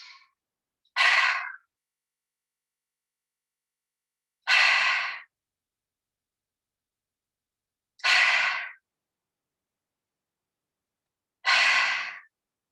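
Slow yoga breathing, four long, loud, close exhalations spaced a few seconds apart with near silence between, each a breathy sigh-like rush of air.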